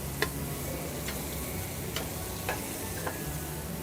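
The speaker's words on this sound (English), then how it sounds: "So when we flip it, we're gonna throw our mushrooms in now" Mushrooms sautéing in a pan alongside a seared chicken breast give a steady close sizzle, broken by a few sharp clicks of a utensil against the pan at irregular intervals.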